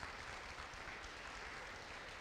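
A church congregation claps steadily during a Spanish-language sermon, a dense, even patter of many hands, fairly quiet and sustained with no voices over it.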